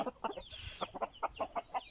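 Chickens and a rooster cluck inside a coop, a rapid string of short, evenly spaced clucks close by with no voices.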